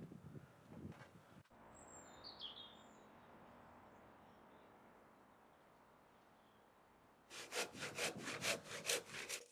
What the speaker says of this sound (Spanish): usar la sierra de mano para quitar la parte del medio